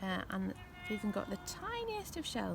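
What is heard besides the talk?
pet cat meowing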